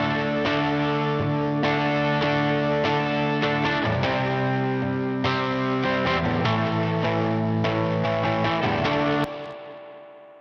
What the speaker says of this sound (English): this is maybe the guitar that has the most RE201, so the most space echo available